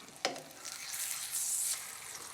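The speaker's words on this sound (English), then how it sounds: "You're just lightly frying it." Steady, soft sizzle of a tortilla lightly frying in a pan, with a brief louder crackle near the start and a gentle hiss throughout.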